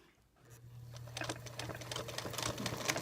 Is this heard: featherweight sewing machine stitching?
yes